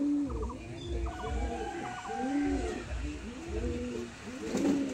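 Pigeons in a home loft coo in repeated low rolling phrases, several calls overlapping at close range in a steady rhythm, with no talk.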